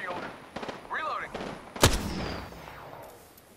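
Gunfire in the battle-royale video game Apex Legends: one sharp, loud shot cracks out near the middle, surrounded by softer game effects and a voice talking throughout.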